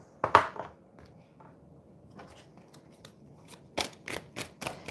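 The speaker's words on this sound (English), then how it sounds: "we're going to shuffle." A One World Tarot deck is shuffled in quick papery riffles and flicks, a few sharp bursts at the start, then a softer pause before another run of rapid card shuffles.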